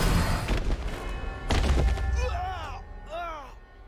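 Explosions and gunfire in the video game Redfall: a cluster of heavy booms and thuds in quick succession, loud and close, followed by sharp whooshing sweeps.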